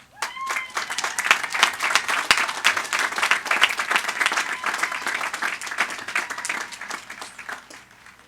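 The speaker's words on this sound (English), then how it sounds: "Please help me to give a warm round of applause for our graduates." Audience at a community college commencement ceremony applauding the graduates, sustained dense clapping from a large crowd in a hall, steady throughout with a faint whistle near the start.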